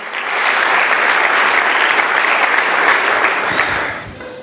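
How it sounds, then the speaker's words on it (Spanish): A church congregation applauds during a service, a dense, loud, sustained burst of clapping from many people that rises quickly, holds for about four seconds and then fades out. "Si alguien quiere aplaudir, siéntanse en libertad."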